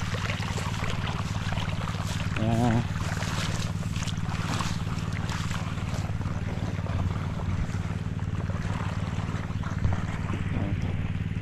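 A steady irrigation pump engine drone on a calamansi farm runs continuously at moderate distance, an even, unbroken hum with a faint warbling tone briefly over it.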